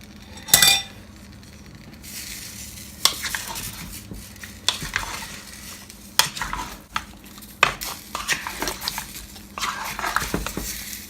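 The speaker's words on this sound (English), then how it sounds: "Just stir in the ingredients." Rutabaga and pumpkin porridge ingredients stirred in a pot on the stove, with irregular close scrapes, clinks and knocks of a utensil against the pot, a soft sizzle beneath and short quiet gaps between strokes.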